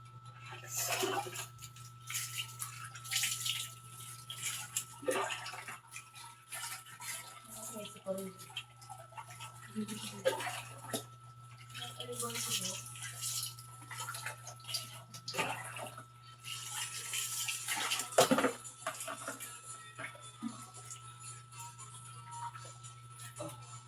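A pet dog gets a bath with water, with intermittent splashing, dripping and pouring sounds alongside clattering, under a steady hum, while a person talks.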